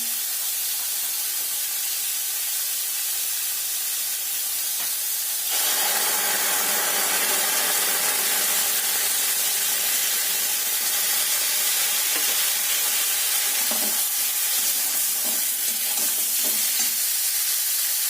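Ground coriander and cumin paste fries in hot oil for a Bengali bata fish curry, a quiet stir giving way at about five seconds to a loud, steady sizzle that holds to the end, with scraping stirs.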